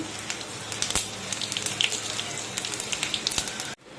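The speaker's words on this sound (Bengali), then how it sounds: "কড়াইতে তেল দিয়ে বসিয়ে দিয়েছি, এখন আমি একটা শুকনো লঙ্কা আর হচ্ছে 5 ফোড়ন জিরা দিয়ে দিলাম, 2টো তেজপাতা দিয়ে দিলাম।" Dried chilli, five-spice, cumin and bay leaves sizzle in hot oil in a pan, a close, steady crackle scattered with sharp pops that cuts off abruptly near the end.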